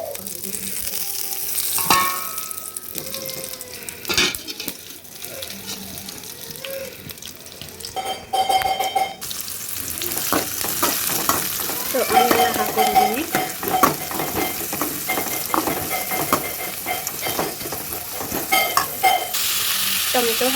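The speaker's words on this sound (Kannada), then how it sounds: "ಸ್ವಲ್ಪ ಆಯಿಲ್ ಹಾಕಿಬಿಟ್ಟು ಇದನ್ನೆಲ್ಲ ಫ್ರೈ ಮಾಡ್ಕೋಬೇಕು ಸೊ ನಾನಿಲ್ಲಿ ಕಡಾಯಿಗೆ ಆಯಿಲ್ನ ಹಾಕ್ಕೊಂಡಿದ್ದೀನಿ ಸ್ಪೈಸಸ್ನ ಹಾಕ್ಕೊಳ್ತಾ ಇದ್ದೀನಿ" Whole spices frying in oil in a kadai, a continuous close sizzle with bursts of crackling, spoon stirring and clattering, and brief splashy water sounds in between.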